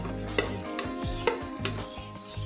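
Onions drop into about half a cup of hot oil in a home kitchen pan and sizzle steadily, with repeated scraping and clinking of a stirring spoon against the pot.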